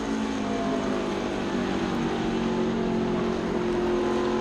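Onboard engine of Riley Herbst's race car at the 2017 Fans With Benefits 150, a steady loud drone as the driver holds off the throttle and then squeezes gently back on, with no voices over it.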